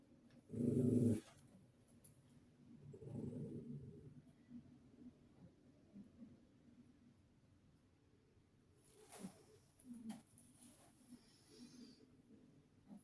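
Dogs in a painting studio give a sharp close growl, then a longer low rumbling growl, followed by quieter scattered whines and rustling in a fairly hushed room.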